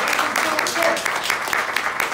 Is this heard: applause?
yes